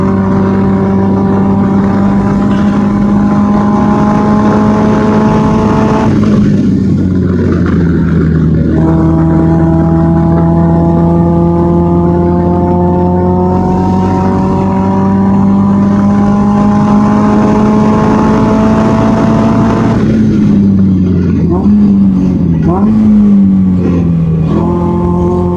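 Loud, steady engine of a Caterham SuperSport race car lapping Sepang Circuit during a race, a sustained harmonic drone that dips and climbs as the driver shifts and changes revs through corners, with no speech.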